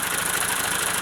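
Tractor engine running in a field while furrowing, a steady, loud mechanical drone with a rough knocking vibration that continues without a break and has no talk over it.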